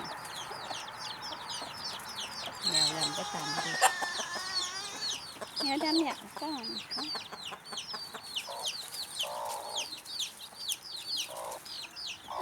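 A black hen clucks over her twelve chicks sheltered under her wings, with a steady stream of high peeping from the chicks close by; someone talks over part of it.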